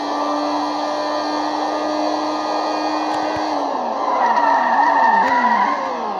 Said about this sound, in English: Let's enjoy the beautiful car jumping.